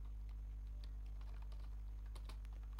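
Keys clatter on a computer keyboard as plain JavaScript is typed, a steady run of quiet, irregular clicks with no voices over them.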